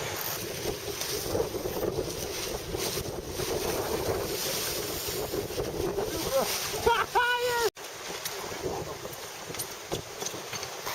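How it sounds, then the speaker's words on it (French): Wind gusts and rain batter a sailboat, with a constant rushing roar, water sloshing nearby, and a brief squeaky creak partway through. "Alors comme on peut voir il pleut, il y a du vent."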